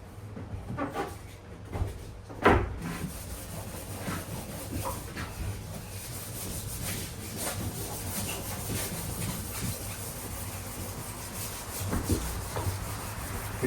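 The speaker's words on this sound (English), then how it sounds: "every part of it has to be sanded good." Hand sanding on Easyrider sidecar parts being restored for a Harley-Davidson Softail, a steady close rubbing and rasping with a few sharper scrapes and no talk.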